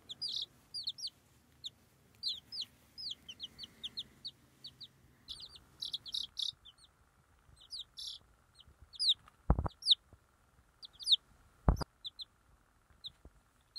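Young chicks peeping and chickens clucking up close in a quiet indoor space, a stream of short high chirps in bursts, with two sharp knocks partway through.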